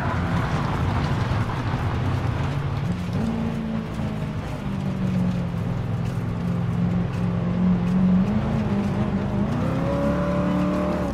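Racing car engines in the GT Sport video game, including a new Ford Mustang, drone steadily with shifting pitch as they accelerate and rev close by, loud and continuous with no talk.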